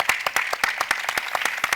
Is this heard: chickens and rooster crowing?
no